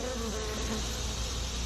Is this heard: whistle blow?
no